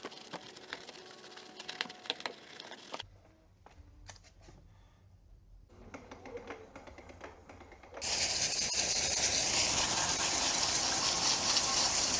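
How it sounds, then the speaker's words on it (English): A garden hose sprays water onto a car wheel during a wheel cleaner test, the loud steady hiss bursting in abruptly after a quieter stretch and continuing to the end. "We'll spray one down with the hose"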